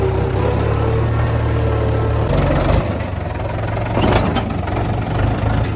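A farm tractor's engine runs loud and steady close by, a low droning rumble that holds throughout with a brief surge partway.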